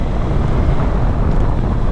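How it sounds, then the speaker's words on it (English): Heavy wind buffets the microphone while riding a motorcycle, a loud continuous low rumble with no other sounds. "Bit of a windy day today"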